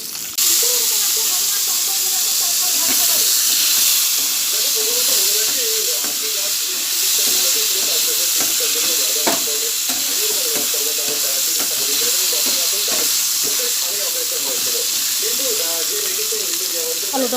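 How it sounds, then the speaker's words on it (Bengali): Potatoes fry in a pan, a steady hiss and sizzle running continuously, with a voice talking over the cooking at moderate level. "আলুটা ভাজা ভাজা হোক, ডিমের কষা হবে আজ।"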